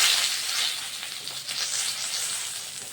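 Panch phoron spices and bay leaves hitting hot oil give a loud, bright, continuous sizzle up close that swells and settles slightly, with no talking.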